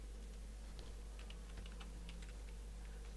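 Rapid keystrokes on a computer keyboard while a username is entered, a quick irregular run of light clicks, close and quiet with no voices.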